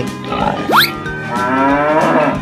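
A single drawn-out cow moo swells up and sustains for over a second, near and prominent, after a brief rising whistle, with upbeat children's music running underneath.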